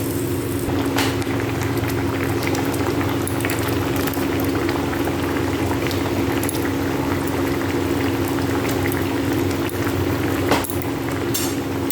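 Coconut prawn curry bubbles at a vigorous boil in a pan, a dense continuous close-up simmer with popping bubbles and a faint clink of utensils.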